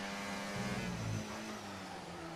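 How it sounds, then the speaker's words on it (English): A Ferrari race car engine revs hard through Degner on the Japanese Grand Prix circuit in a racing game, a steady mid-pitched drone that climbs and then eases, faint and alone. "He is pushing this Ferrari through Degner"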